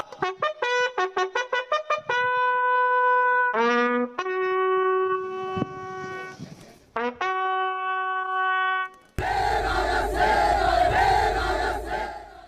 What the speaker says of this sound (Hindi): और देखिए नारों की गूंज